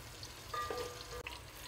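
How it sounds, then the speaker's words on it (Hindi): Onions frying in hot oil for fish biryani, a quiet, steady sizzle with a few soft stirring scrapes, heard alone without speech. "इसको ज़रा भून लेते फ्राई कर लेते थोड़ा"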